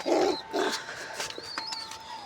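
Pigeons in a home loft coo in a few low, throaty bursts near the start, followed by softer calls and light rustling, close by and with no talk.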